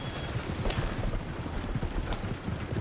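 Horse hooves clip-clop steadily on the ground in the modded video game Red Dead Redemption, a continuous close trotting rhythm with no talking.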